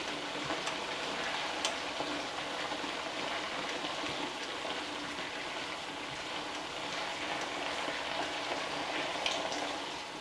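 Chili ingredients sizzle steadily in a hot pot as they are stirred. A dense, even crackle runs for the whole stretch at a moderate level, with no voices.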